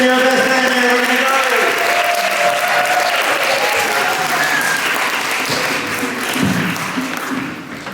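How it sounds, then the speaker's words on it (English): Sustained audience applause, a loud wash of many hands clapping at once, with voices and tones running underneath and the clapping fading slightly at the end. "Let's give another round of applause"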